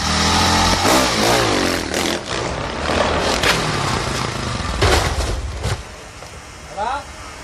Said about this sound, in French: quand on entend le bruit de la moto, qu'on voit le truc et lui qui s'envole, qui explose